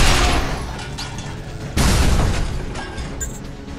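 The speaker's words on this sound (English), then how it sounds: "Dan, I'll confuse the enemy with a chaff grenade." A chaff grenade goes off in the video game Binary Domain: a dense burst of crackling noise, then a sudden second boom about halfway through that fades into a hissing rumble, loud and close, with no voices.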